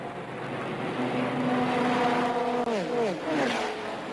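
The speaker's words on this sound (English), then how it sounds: "a thrilling race which saw the 3 Jaguars hounding the leading Porsche for many hours" Jaguar and Porsche race cars at the 1987 Le Mans 24-hour race: one loud, close engine holds a steady high whine, then its pitch drops as the car sweeps past.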